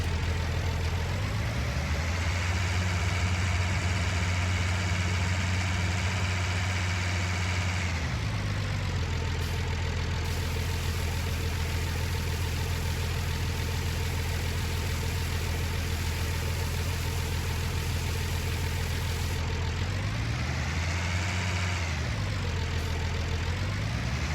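A tractor engine idles in Farming Simulator 19, a steady loud drone with a rear ballast weight fitted, briefly revving up and dropping back a few times with no one speaking.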